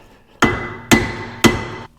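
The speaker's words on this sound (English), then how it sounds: "So we're gonna use Thor's hammer and a piece of wood." Hammer blows struck through a piece of wood onto a car brake rotor during a big brake kit install, three evenly spaced heavy thuds, each with a short ringing metallic decay, loud and close with no talk.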